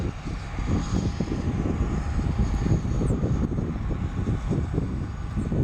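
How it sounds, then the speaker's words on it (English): An Alaska Horizon ERJ-175 jet departs an airport in Portland, its engine roar heard from a distance as a steady, rumbling rush under gusty wind noise on the microphone. "Our Alaska Horizon ERJ-175 just did an immediate departure."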